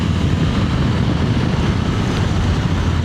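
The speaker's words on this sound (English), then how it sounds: "Today I'm riding the Suzuki V-Strom 800." Onboard riding on a Suzuki V-Strom 800 adventure motorcycle with 83 horsepower and a quick shifter: a steady, loud rush of wind buffeting dominates, with a low engine drone underneath and no talking.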